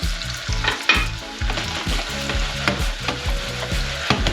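Diced ham frying in a little oil for garlic soup while being stirred, a continuous close sizzle broken by repeated rhythmic scraping and clacking of the utensil against the pan.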